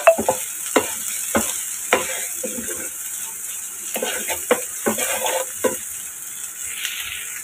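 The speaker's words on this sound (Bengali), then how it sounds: "পেঁয়াজ মরিচটা ভাজতে ভাজতে" Soft sizzling of onion and chili frying in a pan, broken by repeated sharp scrapes and clinks of a utensil stirring, with no talking.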